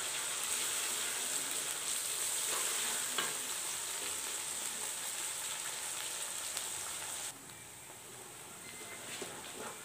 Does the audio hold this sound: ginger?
yes